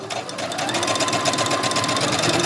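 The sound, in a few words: sewing machine stitching fabric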